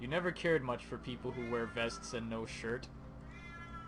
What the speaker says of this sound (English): Oh, that's my cat screaming.